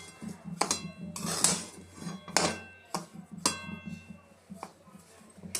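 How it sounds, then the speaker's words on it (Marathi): A spoon scrapes and clinks against a pan while rava ladu mixture is stirred with ground sugar, cardamom powder and ghee, giving irregular metallic knocks and scrapes at close range. "त्याला छान मिक्स करून घेऊया आपण"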